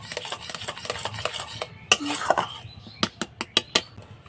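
A spoon stirs hot milk mixed with powdered milk in a pot, soft swirling at first, then a run of sharp metallic clinks and scrapes against the pan.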